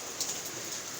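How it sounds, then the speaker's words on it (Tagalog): Heavy morning rain falls steadily in a dense, even hiss of drops, quiet and uninterrupted, with no voices. "Lakas ng ulan guys oh."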